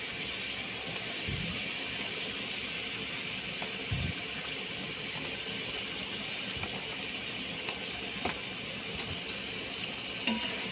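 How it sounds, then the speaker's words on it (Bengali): Brinjal pieces frying in masala in a kadai give a steady, quiet sizzling hiss, broken by a few soft clunks as pieces are dropped in and stirred. "এক এক করে বেগুনগুলো কড়াতে দিয়ে দিলাম।"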